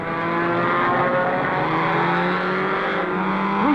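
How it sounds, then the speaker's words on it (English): A Ford V8-powered Grand Prix race car from 1968 roars past at racing speed, its loud, sustained engine note holding steady with slight pitch shifts throughout. "This Grand Prix engine that we have in the back here is a real beauty, and it'll make the car go."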